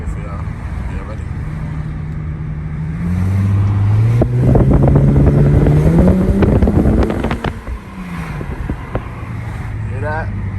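An Infiniti G35 sedan with an ISR single-exit exhaust accelerates hard through a full pull, its engine note climbing steadily in pitch and loudness over several seconds before easing off, with wind and road noise around it.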